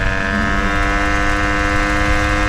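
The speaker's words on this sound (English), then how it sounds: "Once that clutch grabs, it just revs out and does its thing." A 1979 Honda PA50 moped engine drones steadily at high revs while riding, a continuous buzzing whine with layered harmonics and no pauses, close and loud.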